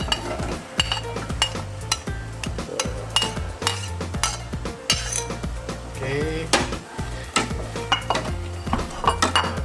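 Long beans, chayote and tempeh for sayur lodeh stirred in a metal pot, with loud repeated clanks and scrapes of a utensil against the pot over a faint sizzle.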